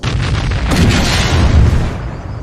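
An armored walking tank blows up in a Star Wars battle over Kuat, a loud, sustained rumbling blast with a sharp crack partway through, rolling on for over two seconds before easing off.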